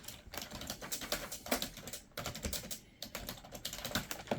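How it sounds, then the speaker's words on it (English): Typing on a Logitech K270 wireless keyboard whose keys tend to stick, a quick irregular run of soft close clicks with brief pauses, quiet and alone. "Some of these keys tend to get stuck when typing."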